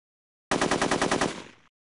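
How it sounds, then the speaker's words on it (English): Browning machine gun of a Spitfire Mk V firing one loud, rapid burst of about a second, each shot distinct, then the sound cuts off with a short echo. "The Browning gun depends for its action on the recoil of internal moving parts assisted, as the bullet leaves the barrel, by gas pressure."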